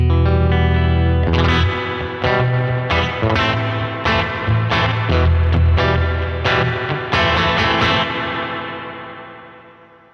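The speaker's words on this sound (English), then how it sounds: "now we'll switch those sides, Springier this time" Electric guitar played through a CTC Mirage reverb pedal on a springier reverb setting, with strummed chords and notes washing into a lush, echoing tail that fades slowly to silence.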